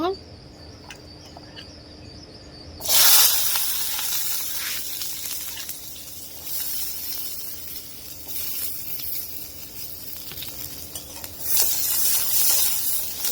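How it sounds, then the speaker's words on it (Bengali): Garlic fries in mustard oil in a wok, giving a steady, close crackling sizzle that swells as the garlic hits the hot oil and carries on without talk. "এখন রসুনটা বেজে নিব"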